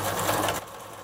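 A sewing machine runs a seam with a 1 cm allowance, humming loudly and steadily for about half a second before the stitching stops and fades, with no voices.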